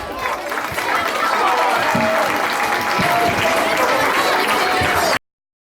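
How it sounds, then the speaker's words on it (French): Applause from an audience at a charity karate club event, a dense, steady wash of clapping for about five seconds, loud and close, with some crowd chatter mixed in, then cutting off abruptly. "On peut les applaudir, merci à tous."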